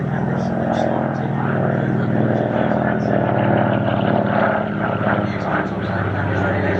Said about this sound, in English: It's just a beautiful aircraft, isn't it?